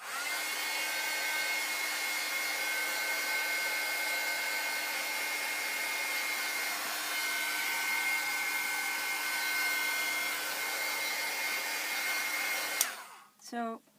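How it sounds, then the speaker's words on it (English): A heat tool blows hot air steadily over painted hot glue embellishments, a continuous close whooshing hum that runs nearly unbroken for about thirteen seconds before cutting off, followed by a brief clatter. "I'm blowing a little bit of heat to get going, so then I don't have to wait."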